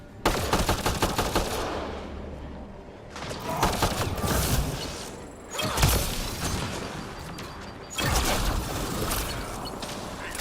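Gunfire in Mass Effect: Andromeda, rapid automatic bursts in several loud stretches separated by short pauses, with mechanical clatter between shots and no talk.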